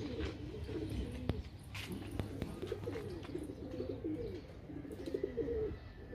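Pigeons coo in steady, overlapping low murmurs close by outdoors, a continuous throaty burbling over a faint background hum.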